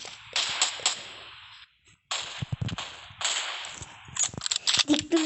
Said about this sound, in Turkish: Çok güzel vurdum M24